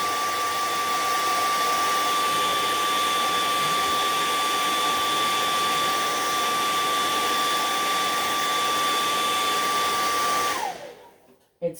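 Compressed air hissing steadily onto a wooden Easter egg, a loud, continuous close blast lasting about ten seconds before cutting off abruptly, with no voices.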